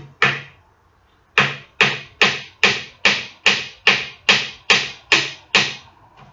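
A hammer drives a 3-inch nail into a wooden greenhouse frame: one knock, a short pause, then about ten evenly spaced, sharp, close blows with no talking.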